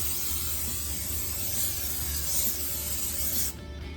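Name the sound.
cooking spray sprayed onto a pan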